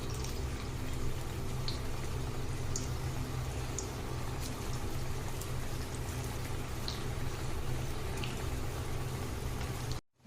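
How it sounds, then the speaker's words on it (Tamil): Bitter gourd pakoras made with ragi flour fry in hot oil, giving a steady, quiet bubbling crackle with small scattered pops and no voices, until the sound cuts off abruptly at the very end. "நல்லா சூப்பராக ஃப்ரை ஆகிட்டுருக்கு."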